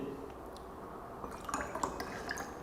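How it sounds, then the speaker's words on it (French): Kangen water is poured into glasses holding other liquids, giving faint trickling and small splashing drips with a few light glass clinks, quiet and close. "je vais prendre l'eau Kangen que je vais verser dans les différents liquides"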